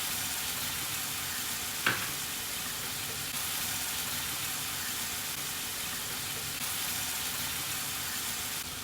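Fried-onion masala paste sizzles steadily in a pan after three tablespoons of water are poured in, giving a continuous frying hiss with one brief sharp splash near the start and no talk.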